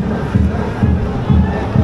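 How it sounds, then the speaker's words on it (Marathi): A crowd gathers at a seaside Narali Pournima festival at Dharamtar, a dense, close murmur of many voices with pulsing low rumble throughout. "गर्दी वाढली आता मगाशी आलेलं तेव्हा फोन नव्हता आता गर्दी बघा किती झाली"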